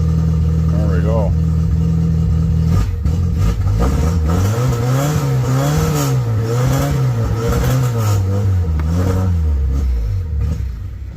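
A small engine idles steadily on choke, then rises and falls in repeated revving surges before dying out near the end; the sound is close and loud and keeps going the whole time, with speech likely mixed in.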